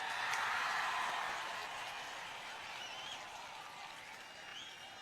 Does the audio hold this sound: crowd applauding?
yes